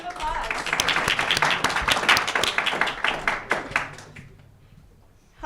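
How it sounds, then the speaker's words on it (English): Applause from an audience at a startup weekend's final presentations, a burst of many hands clapping that builds, peaks and then thins out and fades to near quiet, with some voices mixed in. "Let's give them a round of applause."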